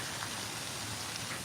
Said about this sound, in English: It's actually raining, so I'm trying to hold my umbrella.